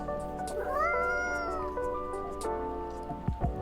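Cat meow from the Coffee Talk 2 video game: one long, clear, wavering meow over a steady musical backdrop, with a few short knocks near the end.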